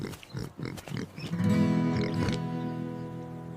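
Farm pigs raised from a small herd of piglets grunt in a few rhythmic bursts, then a longer, drawn-out squealing oink follows, fairly close and moderately loud.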